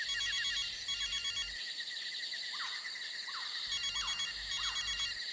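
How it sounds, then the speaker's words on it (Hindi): A telephone rings in repeated trilling bursts, an electronic warble with short pauses between rings, clear and fairly close. "सर घंटी जा रही है सर"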